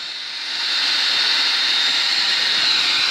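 A small engine runs with the choke engaged, rising within the first half second into a steady, loud, hissing roar that holds evenly to the end.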